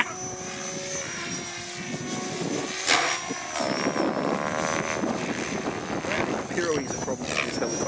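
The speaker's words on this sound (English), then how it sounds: "Pyro is a problem with this helicopter." A remote-control CG 750 helicopter spins through fast pirouettes outdoors, its whining rotor and motor tones sweeping up and down steadily, with someone talking over the noise.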